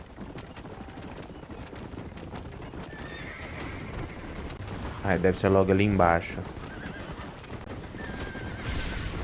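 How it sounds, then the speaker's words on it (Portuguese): Horses in the Red Dead Redemption video game whinny loudly over the steady clip-clop of hooves, a sharp neigh rising mid-way above rumbling in-game noise while someone speaks briefly. "Os cavalos não correm."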